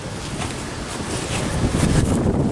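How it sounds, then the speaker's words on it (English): Gusty wind buffets the microphone with low rumbling blasts that swell and fade, loud and close, with no talking. "Now you gotta excuse the wind."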